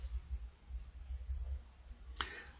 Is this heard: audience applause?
no